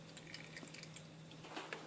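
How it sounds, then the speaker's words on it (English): Liquid from cooked spaghetti squash drips and trickles as it is squeezed by hand, quiet and close with a faint steady hum beneath, and no talking. "There's still a fair amount of liquid coming out of it, so I'm just going to keep squeezing out as much as I can."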